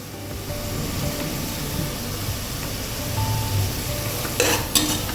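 Curd is stirred into frying vegetable biryani masala, a soft continuous sizzle with low scraping from the spoon and a couple of brief clatters near the end.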